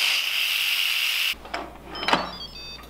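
An Instant Pot pressure cooker vents a loud, steady rush of hissing steam for over a second, then stops abruptly, followed by some clattering and handling noises.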